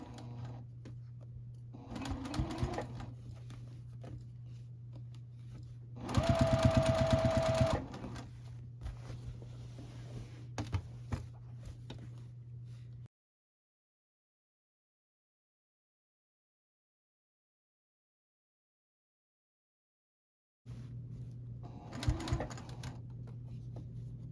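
Sewing machine stitching binding onto a quilt, a quiet steady motor hum with a short louder burst of stitching in the middle, then silence, then another brief run, close and without talk.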